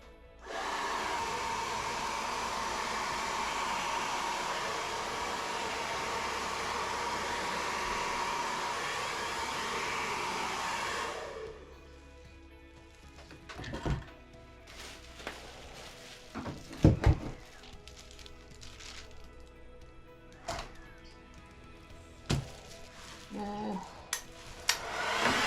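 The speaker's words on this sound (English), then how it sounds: "And I'm going to use the blow dryer," A loud, steady blow dryer roars for about eleven seconds over a resin Dutch pour, then cuts off, leaving quiet room tone with scattered knocks and clicks.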